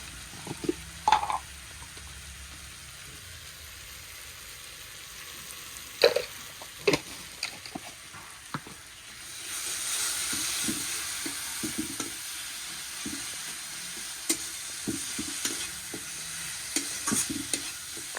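Tomatoes sizzle in a pan, the soft frying hiss rising partway through and continuing steadily, with occasional clicks and scrapes of stirring.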